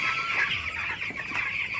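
Several broiler chickens cluck continuously at close range, a busy, steady chorus of short calls with no talking.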